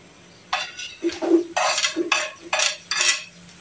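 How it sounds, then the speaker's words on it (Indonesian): Onions are sautéed in oil left over from frying fish, with a run of loud, close bursts of clattering and scraping as a utensil stirs against the pan in uneven strokes, and no talk. "kita tumiskan bawang besar terlebih dahulu"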